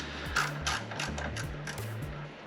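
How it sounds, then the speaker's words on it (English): Tool loosening bolts on a car's suspension for a camber adjustment, a close rapid ratcheting clatter with evenly repeating clicks and whirring pulses across the short clip, no voices. "Loosening the bolts"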